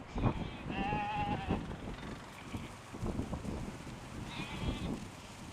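Seaweed-eating sheep bleat a few times on a remote island, one nearby and others farther off, over gusty wind buffeting the microphone outdoors.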